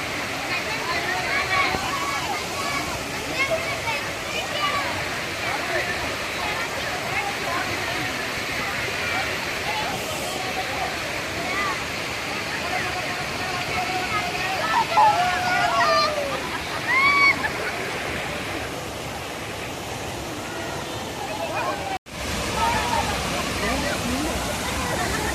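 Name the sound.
hidden waterfall near Athirappilly, Pillappara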